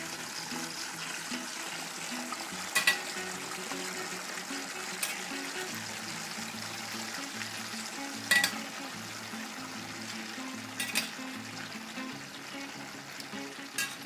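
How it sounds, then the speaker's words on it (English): Potatoes deep frying in olive oil under a lid for moussaka, a steady soft bubbling hiss throughout with a few faint clicks, fairly quiet and unbroken, no talk. "They're going into a deep fry."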